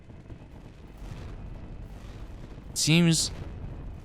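A big cannon weapon firing in a video game: one loud, booming blast lands near the end after a quiet stretch, with someone talking over the game audio.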